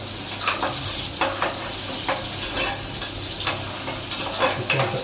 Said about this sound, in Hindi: प्याज अपना भूनेगा आराम से।